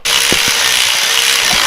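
A tab for a transmission dipstick on a Toyota FJ45 gets tack welded, a loud, close, continuous crackling hiss lasting just over a second with a few faint low pops underneath.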